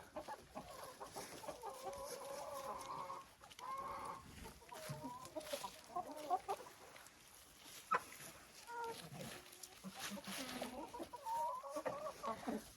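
Several hens in an enclosure in December cluck and murmur continuously close by, with occasional sharper squawks rising over a steady flock chatter.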